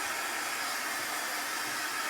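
A hair dryer on its cool setting blows steadily and loudly, a continuous broad whoosh with no other sounds.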